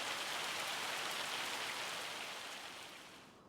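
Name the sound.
hail or rain falling in video game Farming Simulator 25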